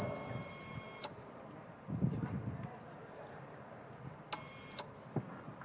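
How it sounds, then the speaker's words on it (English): Quiz buzzer at a medical conference buzzer round, two loud electronic buzzes about a second each, separated by quiet room noise and faint murmuring. "Remember, first round, buzzer round."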